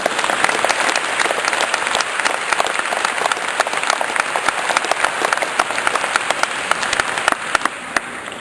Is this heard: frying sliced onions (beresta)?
no